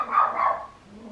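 A dog barks twice in quick succession, loud and close, and then the room goes quiet.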